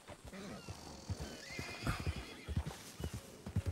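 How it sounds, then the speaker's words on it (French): A horse whinnies loudly up close while its hooves clip-clop in an uneven rhythm on hard ground, with no voices. "Mon petit cheval."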